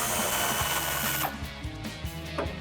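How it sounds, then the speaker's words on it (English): An 18mm socket spins a nut off a stud on a Mustang quad shock, giving a short burst of whirring tool noise and then a few metallic clicks and taps up close. "I'm just gonna remove that nut and take the quad shock off of that stud."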